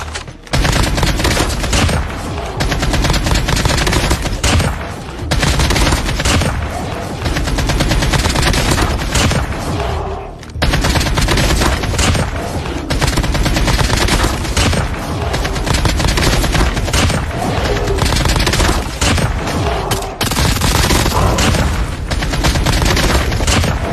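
Dense, continuous gunfire in a shooter video game, with rapid automatic bursts and booming shots layered into a loud, almost unbroken barrage with one short lull near the middle.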